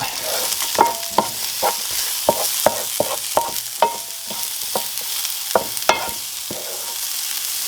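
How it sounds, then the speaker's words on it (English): Pepper is stirred into a cooking pot, a spoon knocking and scraping in a rhythm of sharp clicks over a soft background sizzle, close and clear with no talk. "All right, I'm gonna give this a good stir up."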